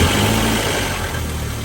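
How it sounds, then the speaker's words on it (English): A Nissan Altima engine idles right after a serpentine belt replacement, a steady, close mid-pitched rumble with no clear squeal, holding even through the short stretch. "Go ahead and start the car."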